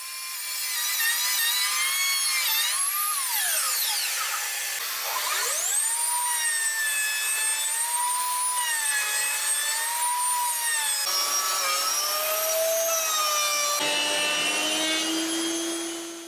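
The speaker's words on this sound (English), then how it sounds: "Now I turn the wooden strip and I can route the corners in the other half of the workpiece." A router on a router table cuts the corners of a long wooden strip, giving a loud, steady high whine with strong overtones. The pitch dips and shifts as the bit bites into the wood, and it runs continuously with no talk.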